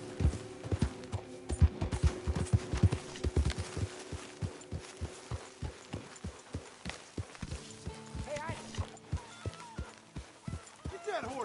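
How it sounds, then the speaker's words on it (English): Horse hooves clip-clop in Red Dead Redemption 2, a steady series of distinct thudding steps, fairly close, with music and voices speaking in the background. "Get that horse out of here."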